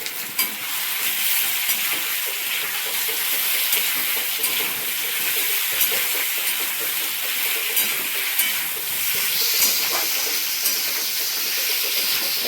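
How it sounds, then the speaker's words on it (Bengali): Potatoes frying in oil alongside raw banana peel in a home kitchen, giving a steady, close hiss and sizzle with faint stirring scrapes throughout, no voices. "আলুটা এর সঙ্গে কিন্তু ভেজে নেবো"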